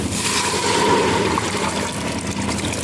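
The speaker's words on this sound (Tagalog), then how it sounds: "ilagay na natin itong jaris. Pati yung tubig niya" Cracked wheat for jarish tipped into a cooking pot together with its soaking water, a steady close wash of pouring and splashing liquid that fills the whole stretch without pause and with no voices.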